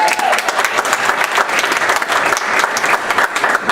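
Audience applause at a Winter Park Chamber of Commerce gathering, a dense, steady wash of many hands clapping at full volume for the whole stretch, with no voices breaking through.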